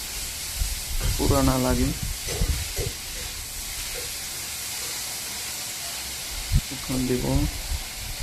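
Food sizzles and hisses steadily in a hot pan as it is stirred, a constant frying wash with occasional scraping, while a person speaks briefly over it.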